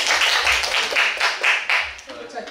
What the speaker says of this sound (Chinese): 我们也给他一个掌声